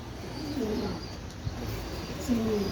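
Pet pigeons, including light grey birds with a chick nearby, coo softly in a steady, low rumbling rhythm at close range, with no talking over them.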